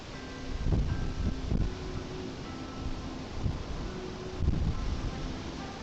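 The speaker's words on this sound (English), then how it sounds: "I'm blaming the wind. Pretty windy" Gusty wind buffets the microphone in low, rumbling surges that swell and fade a few times against a steady roar.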